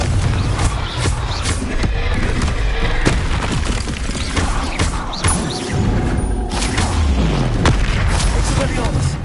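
Confringo blasting spells explode in a Hogwarts video game, with repeated heavy booms and crashes in a dense, loud barrage while a voice shouts spell names over the blasts.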